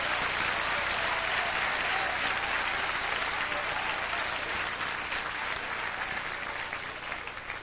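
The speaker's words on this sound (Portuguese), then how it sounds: "Pode aplaudir ao Senhor." A church congregation applauds in a dense, sustained round of clapping that stays loud and even throughout, tapering a little toward the end.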